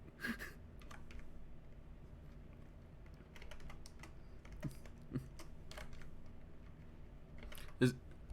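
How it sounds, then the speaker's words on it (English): Someone types on a computer keyboard in quick, uneven bursts of soft clicks with scattered louder key strikes. The typing is faint and sits under low background noise, and a voice speaks at times. "God, I suck at typing."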